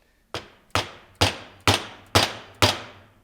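Six evenly spaced, sharp metallic hammer taps seat a new seal into a trailer wheel hub, each a close, ringing strike that dies away quickly.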